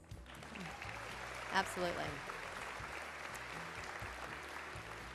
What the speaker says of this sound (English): which should really bring a louder round of applause